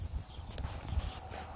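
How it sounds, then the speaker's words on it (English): A big horse moving nearby, with soft hoof clip-clops and shuffling steps on the ground against a steady noisy outdoor background, no voices. "he is just a big old pretty horse"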